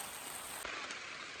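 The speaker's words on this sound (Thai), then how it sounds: "ฝนตกแห้งทุกคนเลย" Heavy rain falls on a shelter in a forest, a dense, constant hiss of drops drumming on the surface that carries steadily through the whole moment without any voices.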